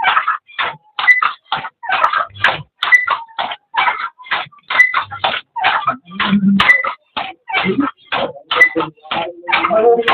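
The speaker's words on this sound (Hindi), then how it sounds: "ये करघे की आवाज है।" A weaver works a handloom in Banka, sending out a steady run of sharp wooden clacks and thumps in a fast, regular rhythm, close and fairly loud with no talking.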